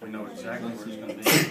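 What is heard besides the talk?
sneeze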